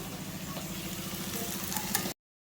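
Chicken pieces and onions frying in a pan over medium heat make a steady, close sizzle with a low bubbling texture for about two seconds before the sound cuts off abruptly.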